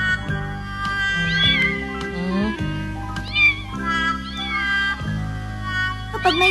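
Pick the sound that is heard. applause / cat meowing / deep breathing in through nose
cat meowing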